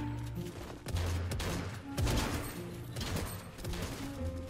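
Gunfire in Fortnite at Tilted Towers: repeated rapid volleys of shots, moderately close and fairly faint in level, coming in clustered bursts across the whole stretch.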